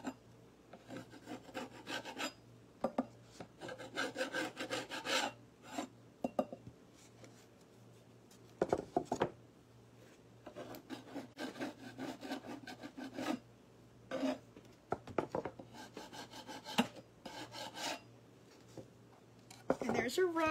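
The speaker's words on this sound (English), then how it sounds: "So I'm just going to scrape some of this off." Old paint is scraped off a wooden surface in irregular bursts of close, scratchy rubbing strokes with brief pauses, fairly quiet overall, over a faint low hum.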